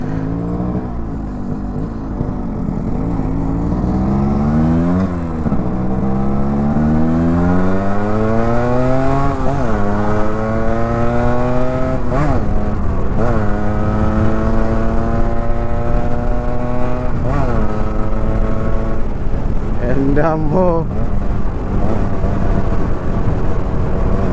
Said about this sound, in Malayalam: വണ്ടിയുടെ ആ ഒരു എക്സോസ് നോട്ടിൻ്റെ ആ ഒരു സൗണ്ട് ഉണ്ടല്ലോ അത് എടുത്ത് പറയേണ്ട കാര്യം കേട്ടോ